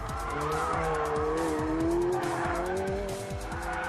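A McLaren 720S drifting, its engine note rising and falling steadily under loud, continuous tyre squeal, close and sustained throughout with no talk.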